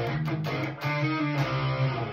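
Distorted electric guitar through the Line 6 Metallurgy Modern amp plugin, chugging palm-muted riffing with a few quick accented hits, steady and fairly loud throughout.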